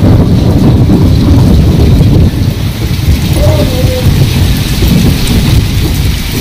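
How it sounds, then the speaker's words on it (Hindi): Heavy rain pours during a thunderstorm, loud and unbroken, with deep low rumbles of thunder underneath and wind buffeting the microphone throughout. "गरज गरज बादल गरज रहे हैं इतने भयंकर वाले, बहुत तेज वाली बरसात आ रही है।"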